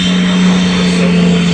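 A Eurofighter Typhoon at the RAF Cosford airshow, heard as a loud, steady engine drone with a strong low hum, brief and unbroken.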